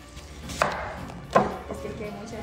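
An onion being chopped with a knife on a board: two sharp, distinct chops about a second apart, with softer cutting taps around them in an otherwise quiet kitchen.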